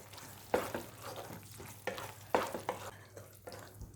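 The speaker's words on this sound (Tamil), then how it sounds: "மிளகுத்தூள் போட்டு நல்லா கிளறி விடுங்க." Prawn gravy seasoned with pepper powder is stirred in a pan, with a spoon scraping and knocking in several distinct strokes over a quiet, low simmer.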